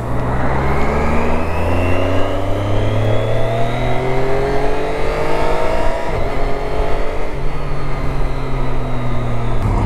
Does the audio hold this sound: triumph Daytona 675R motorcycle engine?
yes